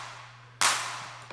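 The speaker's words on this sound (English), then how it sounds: "I can play the clap." A single sharp clap sample passed through an EQ, one bright burst with a short decaying tail over a low steady hum, fairly faint.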